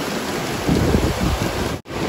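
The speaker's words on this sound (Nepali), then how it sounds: "अहिले पनि यस्तै दिन छ हेर अझै पानी परिरहेको छ" Steady rain falling near a waterfall during a landslide in a village, a dense continuous hiss with a brief dip in the noise near the end.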